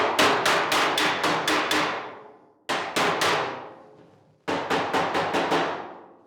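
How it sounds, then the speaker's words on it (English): A slapper strikes a warped, welded steel body panel on a 1940 Ford-inspired build, delivering three loud, close bursts of rapid metallic blows, each a run of about six ringing hits that decay before the next burst. "I'm going to take the slapper, distribute the surface of the force over top of a wider area"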